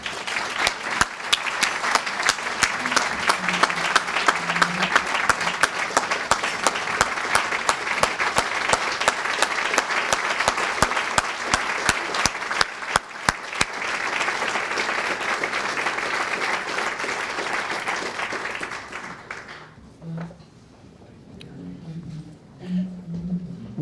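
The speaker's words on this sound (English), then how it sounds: "Please join me now in a round of applause to honor and thank a true American and Burlington inspiration, Bobby Colleton." Sustained applause from the audience at a chamber of commerce annual meeting, a long steady wash of many hands clapping with a few sharp close claps, fading out near the end into quiet room murmur.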